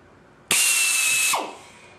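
A power drill whirs loudly for under a second drilling aircraft center ribs, then winds down as the motor slows to a stop.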